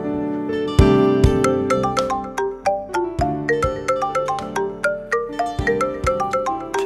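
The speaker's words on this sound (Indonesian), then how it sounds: "Siapa nih nelfon pagi-pagi?" A melodic electronic ringtone plays a bright, repeating chime tune, loud and close, with no voices.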